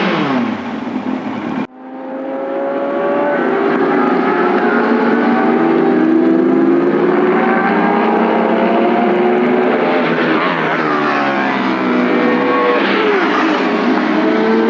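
Loud, sustained high-revving scream from a 2000 Yamaha R1 motorcycle at speed, cutting in sharply after a brief burst and holding a strong engine whine with shifting pitch throughout.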